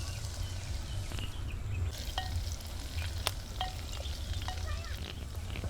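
Whole cumin, garlic, ginger and finely chopped green chillies frying in oil in a clay pot over a wood-fired stove, a soft steady sizzle with faint scraping stirs and occasional small clicks, quiet and without voices.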